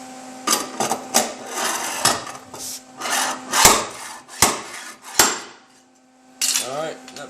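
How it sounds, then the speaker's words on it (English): A slide hammer pulls welded studs to straighten a dent in the body of a 2013 Honda Accord EX-L salvage car. The job gives a handful of sharp metallic clanks and scrapes, close and loud, separated by quieter gaps. "I pulled a couple of pulls on the slide hammer here"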